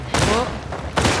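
Gunfire in The Last of Us Part II, two loud blasts a second apart over a busy game background.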